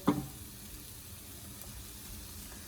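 Garlic and bacon sizzle quietly in a pan for a Filipino bacon and snake bean stir fry, a brief louder hiss at the start settling into a faint, steady crackle with no talking.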